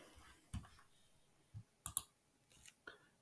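Computer mouse clicks while working in SolidWorks: a handful of short, faint, sharp clicks spaced irregularly in an otherwise quiet room.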